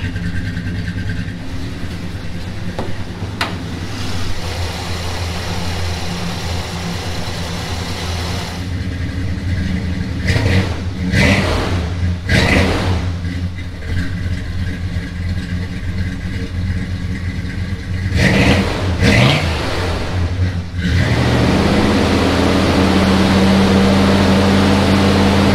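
A car engine fitted with a performance cam idles with a loud, choppy, lumpy rumble, broken by several sharp revs around the middle before it settles back into a steady idle.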